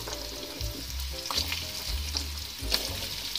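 Red pumpkin pieces dropped into sizzling green chili, cumin and mustard seed tempering, giving a steady close frying hiss with light stirring scrapes and no voices.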